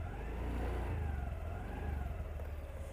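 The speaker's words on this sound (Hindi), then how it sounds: "अब ये जो एक्सीलेटर है इसे आपको घुमाना है" Scooty scooter engine running on its double stand, a close mid-pitched hum that rises and wavers as the accelerator is slowly twisted, steady and unbroken.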